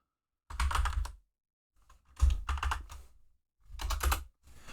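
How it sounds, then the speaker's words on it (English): A loud computer keyboard is typed on in three quick bursts of rapid, clacky keystrokes, close and dry, separated by brief pauses. "let me type something real quick in chat. And yes, I have a loud keyboard"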